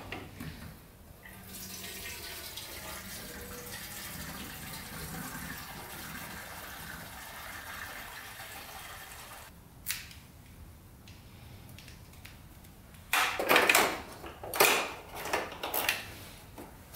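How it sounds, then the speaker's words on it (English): Fresh gasoline pours steadily into the drained fuel tank of a scrap moped, a continuous liquid stream that stops, followed by clunks and knocks of handling. "Fuel tank is drained."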